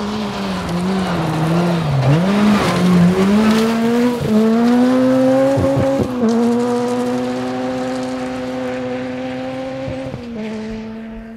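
A high-revving, naturally aspirated rally car engine revving to about 8,000 RPM climbs through gear changes as it approaches and roars past at speed on a 2012 Olympus Rally stage, the whine sweeping up and down before fading slightly.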